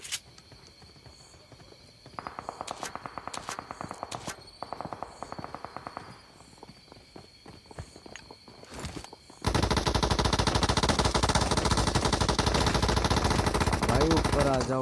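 Shotgun and automatic gunfire in PUBG Mobile gameplay, sporadic shots early on giving way to a dense, loud sustained burst near the end, with a player talking over it.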